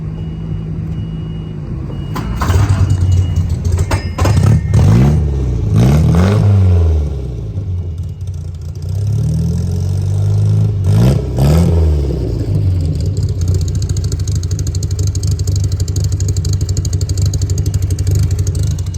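A 1959 MGA 1600 Roadster cranks and fires up. Its engine revs loudly and closely in several swelling bursts, then drops back to a steady, rumbling idle.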